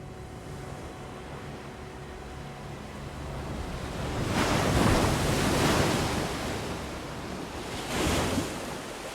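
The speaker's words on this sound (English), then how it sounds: "The ocean." Ocean waves in a war film soundtrack, the sea off Omaha Beach, wash in with wind-like noise, one big surge cresting in the middle and a smaller break near the end.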